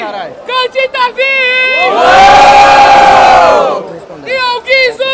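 A loud burst of crowd cheering and shouting swells for nearly two seconds at a Brazilian rap battle semifinal at Batalha da Aldeia, framed by an MC shouting over a microphone before and after.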